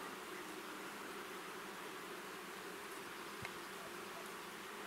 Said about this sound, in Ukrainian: Але бджіл тут більш ніж досить. І вони прям конкурують за квіточки.